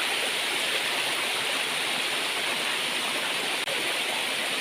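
Pu Kaeng, a nine-tiered waterfall, roars steadily and close, a dense, unbroken rush of falling water with no other sounds.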